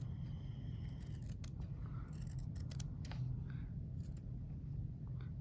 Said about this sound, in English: So then, here it is, paper scissors. We're going to trim our seam allowance to a 1/4 inch.